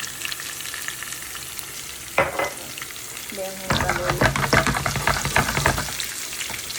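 Cumin seeds crackling in hot oil for dal, starting as a quiet background hiss, then bursting into a loud run of spits and pops after a couple of stirs, with no talking.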